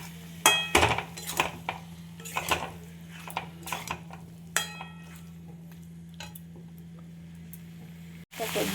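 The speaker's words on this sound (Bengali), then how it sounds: "এবার এইভাবে আমি 2 মিনিট কষিয়ে নেব, যাতে সব মশলাগুলো সোয়াবিনের মধ্যে ঢুকে যায়।" Soybean chunks stir-fried with spices in a pan, with repeated metallic clanks and scrapes of a spatula against the pan over a faint sizzle and a steady low hum, ending in a brief pause.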